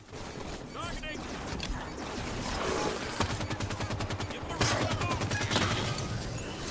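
Rifle fire in Halo 5 Guardians rattles in rapid repeated bursts over a busy battle backdrop, fairly loud and steady, with a voice talking over it.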